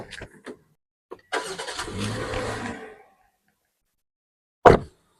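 A Toyota Terios engine cranks briefly and catches, running rough for under two seconds before cutting off, followed later by a short loud thump; nearby and alone, with no talk.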